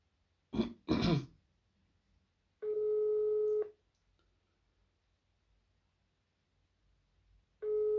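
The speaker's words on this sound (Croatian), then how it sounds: "Evo, zovem ga." Telephone ringback tone: two long, steady electronic tone bursts about five seconds apart, clean and clear against silence, after a short throat clearing at the start.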